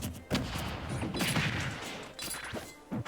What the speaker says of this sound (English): C4 explodes, takes them out.